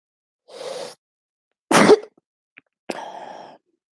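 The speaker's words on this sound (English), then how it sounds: "And there's another sneeze coming." A person sneezes indoors during a casual chat, with a few short bursts of breathy sneezing and throat sounds separated by silence, close to the microphone and fairly loud; no words are spoken.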